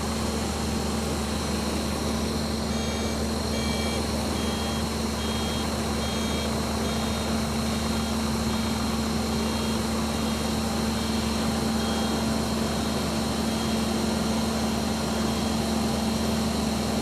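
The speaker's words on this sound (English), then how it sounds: "I guess the ground power unit is to power the onboard electrical supply" A ground power unit runs steadily beside an An-124 cargo aircraft at Milan Malpensa, a constant engine drone with a steady hum and faint repeating beeps, unchanging and without talk.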